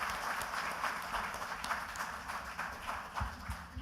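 A crowd applauding quiz semi-finalists at the Tata Crucible Corporate Quiz national finals, dense continuous clapping from a sizable audience, fairly distant and even throughout.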